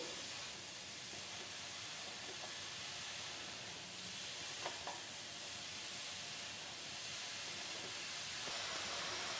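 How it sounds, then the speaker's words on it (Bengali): Grated carrots fry in ghee for carrot halwa, making a soft, steady hiss and sizzle with a few faint ticks of stirring. "গাজর ভুনার সময় আমি আরও 1 টেবিল চামচ ঘি অ্যাড করে দিচ্ছি।"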